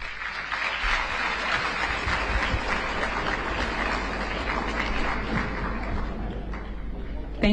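A large audience at a state visit event gives a sustained round of applause for Namibia's president in Tanzania; thick, steady clapping fills the whole stretch, loud and continuous, with a low rumble beneath.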